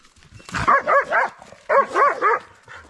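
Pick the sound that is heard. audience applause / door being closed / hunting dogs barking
hunting dogs barking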